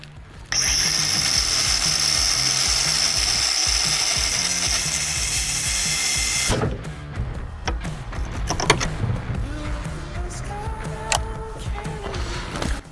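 A DeWalt DCG418 54-volt cordless angle grinder whines at high speed for several seconds, then abruptly brakes and spins down, followed by clicks and handling noises.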